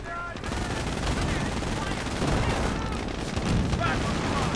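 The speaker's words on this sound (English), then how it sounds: "Rifleman getting suppressed by the MG42." An MG42 machine gun fires in a WWII strategy video game, with rapid sustained bursts amid other gunfire and booming battle effects, loud and continuous throughout.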